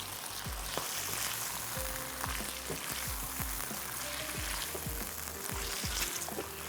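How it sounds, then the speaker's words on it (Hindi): Tomatoes sizzle steadily in a frying pan for a desi methi puri meal, with continuous hissing frying noise and repeated soft scraping knocks as they are stirred and mixed, no talking. "ये चलेगा इसमें टमाटर, थोड़ा सा इसको मिक्स कर लेते हैं"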